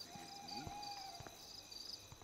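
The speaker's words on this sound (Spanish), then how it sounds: "El sonido de los grillos me encanta." Night crickets in the video game Life is Strange chirp softly in the background, with faint repeated calls and a few short clicks in a quiet ambience.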